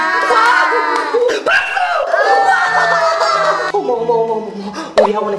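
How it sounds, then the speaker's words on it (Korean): Classroom crowd at an art academy erupting in cheering and applause, a dense, loud wash of clapping and excited voices running continuously throughout, with yells and shouts layered on top. "모두 박수!"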